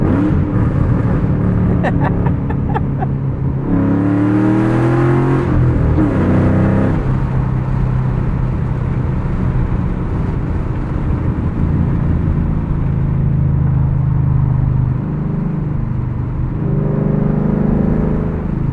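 A 2007 Ford Mustang Shelby GT with a loud exhaust and a five-speed manual blips and revs on a downshift, the engine note swelling and falling inside the cabin while people talk over the steady drone.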